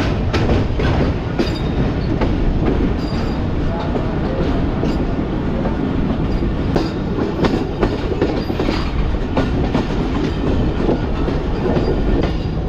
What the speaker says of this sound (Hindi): आहिस्ता आहिस्ता ट्रेन ब्रिज से निकल रही है पीछे